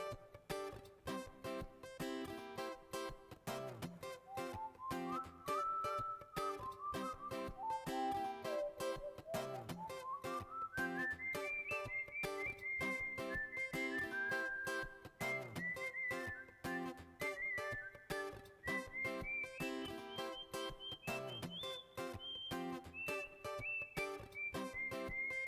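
A person whistles a long, wandering melody at the KPID Awards ceremony in South Sulawesi, holding the tune clear and continuous for about twenty-five seconds over a steady backing.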